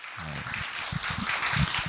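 Audience applause welcoming author Lee Sang-myung, a university president who wrote an introduction to Revelation, at a book concert; a steady wash of clapping fills the whole stretch, with some low voices murmuring underneath.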